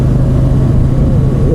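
A 2016 Ducati Scrambler motorcycle engine accelerates, a loud, close, continuous low rumble and drone that holds steady for the whole stretch, with no talking.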